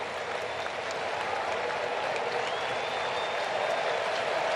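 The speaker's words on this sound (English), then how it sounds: "The crowd get behind Charlie." Baseball stadium crowd applauding during a Brewers versus Braves game, a sustained wash of clapping and crowd noise at moderate level without pauses.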